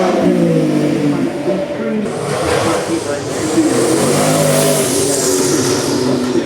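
Supercars accelerate past at the Goodwood Festival of Speed, a loud continuous engine roar rising and sweeping by at close range, with crowd noise and a commentator's voice underneath.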